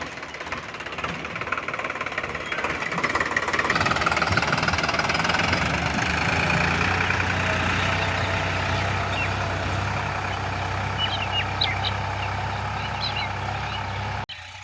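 A tractor engine runs steadily on a village farm, a loud, continuous idling rumble with a knocking texture that holds throughout, close by and alone without talk.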